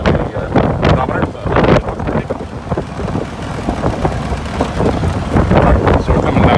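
A 1956 Chevrolet Corvette cruising at speed near 60 mph, with loud, steady road and wind roar and rumbling engine noise filling the cabin throughout, and someone talking over it.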